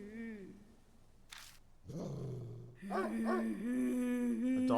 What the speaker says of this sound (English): A dog is whining like it's afraid of something.